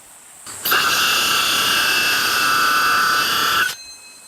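A power drill bores a small hole in the bottom of a clay jar meant for smoking pork belly at a campsite, a steady high whine running for about three seconds, close and loud, with no talk.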